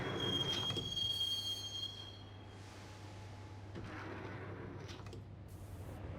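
A subway train ride in the Max Payne video game, heading toward Roscoe Street Station: faint steady rail rumble with a thin squeal early on, then a hollow, quieter rolling hum.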